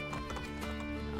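A horse runs in the video game Assassin's Creed Brotherhood, with quick rhythmic hoof clip-clops over a dense, steady game soundtrack in a short burst.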